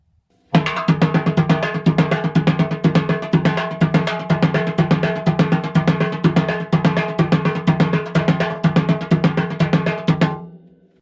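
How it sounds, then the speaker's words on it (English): A high-pitched repique samba drum plays a fast, steady stream of sharp strokes for about ten seconds, loud and close, with no voices. "The repique sounds something like this."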